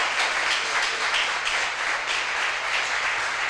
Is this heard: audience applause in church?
yes